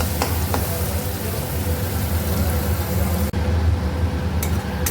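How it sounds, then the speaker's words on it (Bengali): Dried fish sautés in a pan with turmeric and salt, giving a steady loud sizzle with occasional clinks of a utensil against the pan. "তো এই যে কষানো চলছে শুটকি মাছটা"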